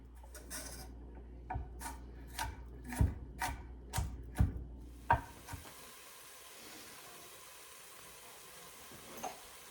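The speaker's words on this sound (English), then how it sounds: "And now I'm going to chop some onions that I can put in there" Onions being chopped with a knife on a cutting board during cream of broccoli soup prep: about nine sharp, evenly spaced chops, close and fairly crisp, then a steady soft hiss with no talking.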